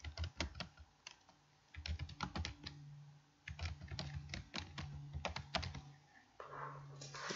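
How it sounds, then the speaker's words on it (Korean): Fingers type on a computer keyboard in quick irregular bursts of sharp clicks and taps separated by short pauses, close and quiet with no voices. "키보드를 눌러서 내용을 입력해 주도록 하겠습니다."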